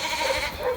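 Sheep ewes on a farm bleat in short, overlapping calls at moderate distance, forming a brief burst of flock noise.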